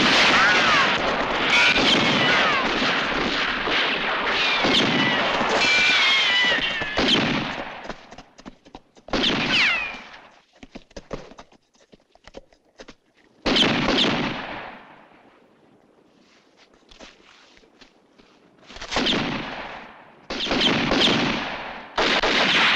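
Gunfire rings out in a western movie shootout, with dense volleys of loud shots and booming blasts in repeated bursts separated by brief lulls, while voices shout now and then.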